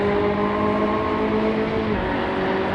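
GT3 race cars at Spa in the racing game Assetto Corsa, a steady engine drone with sustained harmonic tones and a slight pitch shift near the end, continuous and fairly loud with no talk.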